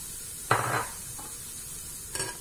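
Chopped onion lands in a hot pan for a white bean stew and gives two short bursts of sizzling, the first louder and longer and the second briefly later, over a faint steady hiss.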